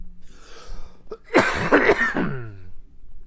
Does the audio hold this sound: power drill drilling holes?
no